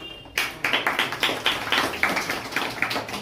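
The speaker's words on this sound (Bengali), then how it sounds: "হাততালি।" Applause from an audience at a talk or prize-giving event, a burst of many hands clapping in quick repeated bursts, fairly close and steady for a few seconds with no voices over it.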